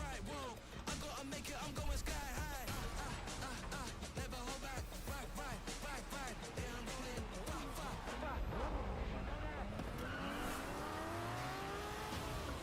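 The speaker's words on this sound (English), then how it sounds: "Yes, yes, car engine sounds." Race cars in Forza Motorsport, engines revving and rising in pitch with tire noise over a continuous music bed, someone talking over it at times.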